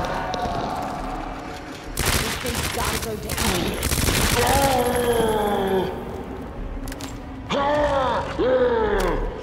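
Gunfire in Resident Evil 2 as shots are fired at a creature's eye, with bursts of loud cracks and mechanical creaks mixed with game effects and a few brief tonal sounds.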